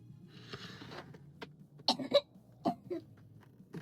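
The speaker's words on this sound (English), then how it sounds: "Sorry, I'm not just coughing anymore." Several harsh, short coughs burst out close by, clustered in the middle of the stretch, with a softer throat-clearing rasp before them over a low background hum.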